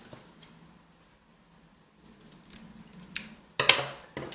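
Scissors snip through excess cord on a simple bead bracelet, a couple of faint clicks early, then one louder, crisp close cut near the end after a quiet stretch.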